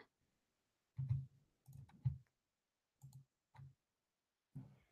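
Short bursts of clicking keystrokes in small clusters, separated by pauses, close and fairly quiet in an otherwise silent room.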